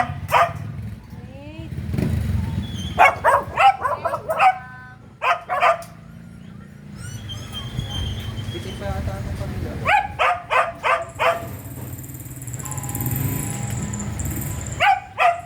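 Several dogs bark in loud, repeated bursts at a mobile refugee center in Quezon City, some yipping and whimpering between them, while people talk nearby.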